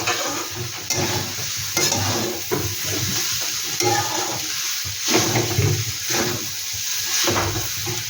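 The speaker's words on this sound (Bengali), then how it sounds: "এবার এটাকে আমি ভালো করে নেড়ে নেব।" Maggi noodles with egg stirred in a pan, repeated scraping and swishing strokes over a steady sizzle, close and fairly loud, with a brief voice near the end.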